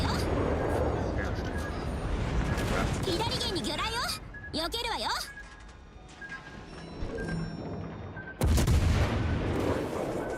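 Warships trade gunfire in World of Warships Legends, with repeated booming salvos and shell impacts over a steady engine rumble, broken by gaps and a loud burst near the end.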